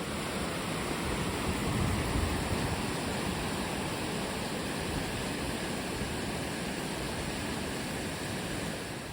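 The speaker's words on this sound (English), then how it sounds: "a lot of water rushing" Continuous loud rushing of water tumbling over the rocks of Kings Creek Cascades, a dense unbroken roar with no voices.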